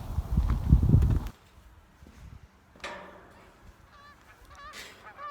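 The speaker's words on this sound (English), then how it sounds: "I can hear some geese in the distance." Geese honk in the distance outdoors in a city park, a few thin scattered calls near the end after a short burst of closer rustling or footsteps.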